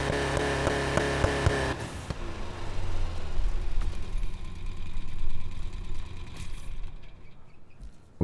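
A VW Beetle engine in the racing game Need for Speed Heat, a low steady exhaust drone that shifts in pitch and swells a few times, following a brief burst of music, with no talking.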